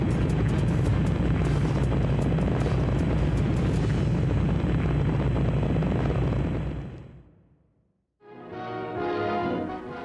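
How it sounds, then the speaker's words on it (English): Rocket liftoff roar, a loud, dense rumbling blast that holds steady for several seconds, then fades away and drops to near silence before a different broad sound starts up. "Liftoff. We have a liftoff."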